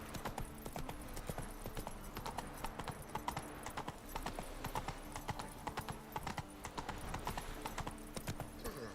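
Hooves of a horse galloping in The Witcher 3 beat in a steady, rapid clip-clop rhythm that runs throughout, loud and close, with no voices over it.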